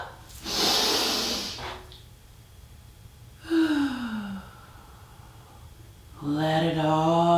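Deep breaths taken while stretching: a loud airy inhale, a soft hiss, then a longer exhale with a descending tone, close and alone, followed by the start of another breath.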